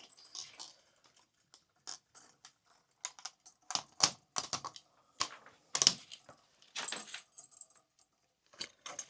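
A length of metal chain from a hardware store jangles and clinks in irregular bursts close by, with sharp metallic rattles separated by brief quiet gaps.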